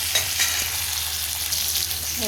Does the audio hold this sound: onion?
yes